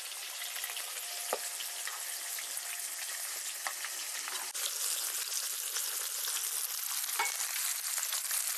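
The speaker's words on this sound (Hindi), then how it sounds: "तो ये मछली जो हमारा है देखिए तल गया है" Fish pieces for a mustard-spiced fish curry fry in hot oil in a pan, giving a continuous dense crackling sizzle with scattered sharper pops, steady and close throughout.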